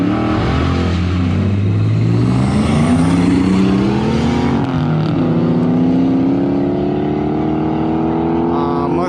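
A 2JZ-swapped Lexus and a Mustang street race, engines loud and near, revving up through rising gear sweeps, a shift near the middle, then a sustained high-rpm pull.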